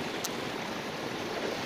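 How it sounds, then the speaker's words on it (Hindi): Water carrying fresh cow dung and cow urine flows steadily into a farm pond, a continuous soft rushing and gurgling heard alone at moderate distance. "ये गोबर और गोमूत्र पानी के द्वारा तालाब में जा रहा है"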